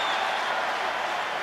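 Rugby crowd at a Munster match giving a steady, broad cheer and applause that stays fairly loud and even throughout, a dense wash of many voices with no single speaker standing out.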